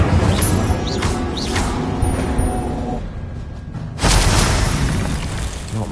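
Incendio fire spells cast in Hogwarts Legacy, a game: loud broadband whooshing bursts that roar for about three seconds, dip briefly, then flare up again at full strength.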